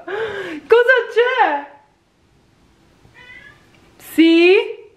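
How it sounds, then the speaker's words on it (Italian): A house cat meows loudly and close by in a kitchen, giving several drawn-out, rising and falling cries with a short quiet gap between them. "Mamma mia, che gatto, ma dove l'ho trovato io?"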